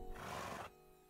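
A horse in the video game Minecraft gives a single quiet, drawn-out whinny that fades abruptly, with no talk over it.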